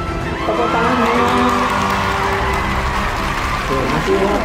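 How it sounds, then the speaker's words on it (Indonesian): An audience cheers and claps for the first-place winner at a prize announcement, loud and sustained, with a crowd's murmur and children's shouts mixed in. "Tepuk tangannya."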